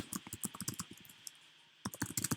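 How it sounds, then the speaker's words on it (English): Fingers type on a computer keyboard in two quick bursts of close, crisp key clicks separated by a short pause. "I would come down here and I would start typing"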